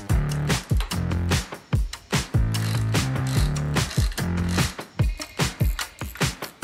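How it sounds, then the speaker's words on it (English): A hand ratchet tightens the cranks of a Mongoose PT26 jump bike onto the bottom bracket, giving loud, close clicking strokes in quick bursts with short pauses between, with no voices. "So we'll use the spacers that came with the cranks and install them on both sides of the bottom bracket."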